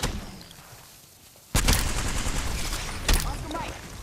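Gunfire in a video game shooter: quiet at first, then a sudden loud burst of fire and a second sharp volley a moment later, close and heavy, with ambient battle noise between.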